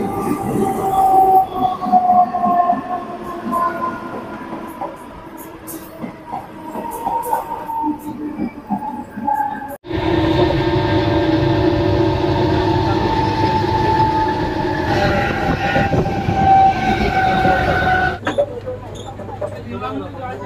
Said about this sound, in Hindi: 11:30 बजे ट्रेन आने वाली है